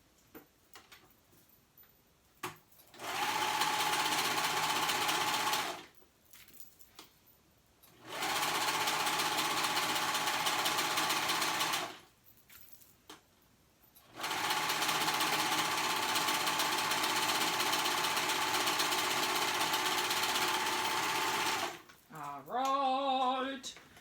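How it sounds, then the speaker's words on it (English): Sewing machine stitching fabric for kids' joggers in three long steady runs of fast rhythmic whirring, near and loud, separated by quiet pauses with faint clicks, and a short burst at the end. "now I'm going to go ahead and sew around that whole thing"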